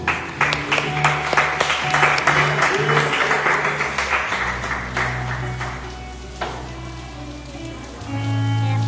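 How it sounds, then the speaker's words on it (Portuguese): Congregation at a family church service clapping together, a dense burst of applause that fades out over several seconds while a low hum continues underneath. "Vamos aplaudir o nome do Senhor Jesus?"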